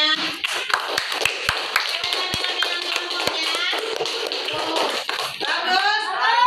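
Classroom audience of students clapping in applause, a dense, steady patter of many hands with a few sharper claps standing out, mixed with faint children's voices and shuffling.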